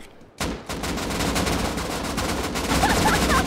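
Rapid bursts of automatic gunfire from a first-person shooter video game rattle continuously for several seconds after a sudden start, loud and dense.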